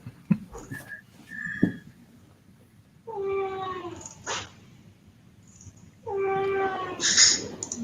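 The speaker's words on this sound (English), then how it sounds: "Meow." A cat meows twice in long, drawn-out, whiny calls, each lasting about a second and fairly close, with a few short clicks and bumps before them and no talking.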